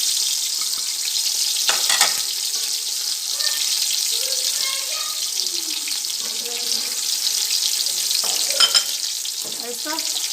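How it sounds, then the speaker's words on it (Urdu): Ground onion and masala frying in a pan, a steady loud sizzle filling the whole stretch, with occasional clinks and scrapes of stirring and faint tonal kitchen sounds underneath. "اور اس کو 5 منٹ بھونیں گے۔"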